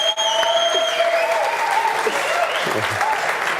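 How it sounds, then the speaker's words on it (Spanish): Audience applause at a light painting event as the presenter Frodo Álvarez is introduced, steady clapping filling the room for several seconds, with faint voices and a few tonal sounds over it. "Con ovación del público incluso"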